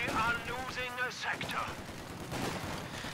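Machine gun fire and other gunshots in a competitive World War II strategy video game match, dense rattling bursts under an excited commentator's voice.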